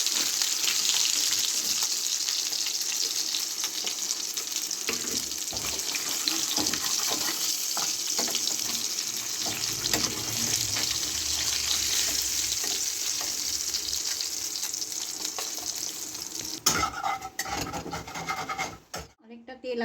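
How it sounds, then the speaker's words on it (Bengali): Pieces of katla fish fry in plenty of hot oil in a home kitchen, giving a steady, dense sizzle that holds for the whole stretch, with faint clinks and stirring near the end. "একটু লাল লাল করে ভালো করে ভেজে নেবো।"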